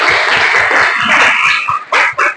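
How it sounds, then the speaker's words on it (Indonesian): Applause from an audience in a classroom setting, a dense burst of clapping that cuts off abruptly near the end with a couple of short trailing bursts. "Berikan tepuk tangan."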